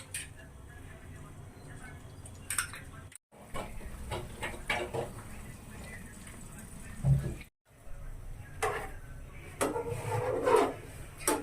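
Maggi noodles with five eggs being stirred slowly in a pan, a soft irregular scrape and clatter of utensil against metal, moderately close, continuing through background noise with brief pauses.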